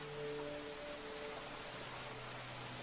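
Rain falling in a video game, a steady soft hiss that runs unbroken under faint sustained tones, quiet and even throughout with nobody talking.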